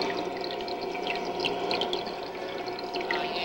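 Water pours and splashes steadily in a cave spring, a continuous close gurgle with small droplet spatters throughout.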